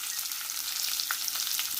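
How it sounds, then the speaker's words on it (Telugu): Chopped onions and green chillies sizzle steadily in a hot pan with curry leaves, a continuous close crackling hiss with faint stirring scrapes and no voices. "సన్నగా తరిగి పెట్టుకున్న పచ్చిమిరపకాయ ముక్కలను ఫ్రై చేసుకుందాము"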